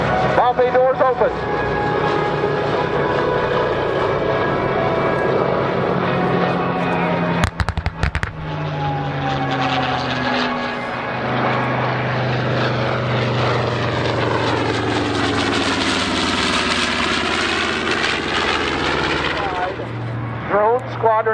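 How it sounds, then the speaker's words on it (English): A B-25 Mitchell medium bomber flies past at an airshow, its propeller engines a loud, sustained roar that builds and shifts in pitch as it passes, with a brief crackle of other noise partway through. "an American medium bomber that was introduced in 1941, named in honor of Brigadier General William Billy Mitchell"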